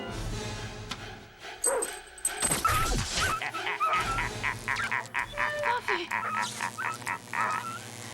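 A dog lets out a run of high whimpers and yelps, then a string of short, rhythmic barks, fairly close and moderately loud.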